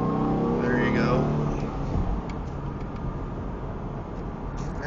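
A 2006 Ford Mustang with a V6 engine pulls away from a takeoff in low gear, a steady, moderately loud engine drone heard from inside the car while people talk over it.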